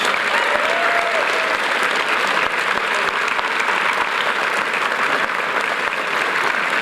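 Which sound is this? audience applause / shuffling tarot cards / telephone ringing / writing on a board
audience applause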